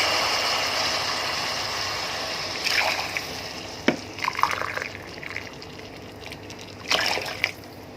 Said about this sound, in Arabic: ابتدي احط الميه السخنه عندي